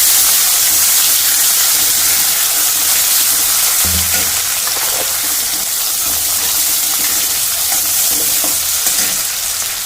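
Chopped tomato hitting hot oil in a pan for Bengali rui fish biryani, a loud continuous hiss and sizzle with a brief scrape of stirring partway through, close up and without speech.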